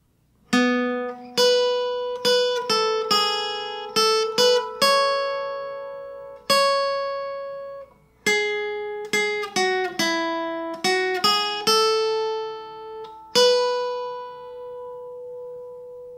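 A plucked requinto guitar melody from the intro of a song, quick picked notes in short bursts, played solo and close, with brief pauses between phrases.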